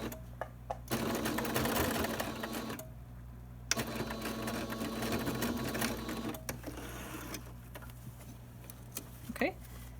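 A sewing machine stitches a fabric face mask in two loud, steady bursts of rapid mechanical whirring, split by a short pause and followed by quieter handling. Low speech is faintly present underneath.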